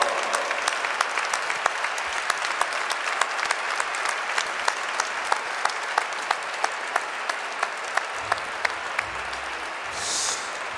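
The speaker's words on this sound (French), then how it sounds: "que je vous demande d'applaudir aussi très fort." An audience at a Franco-Armenian chamber of commerce anniversary gala claps loudly and steadily, a dense sustained applause with sharp individual claps standing out, tapering slightly near the end.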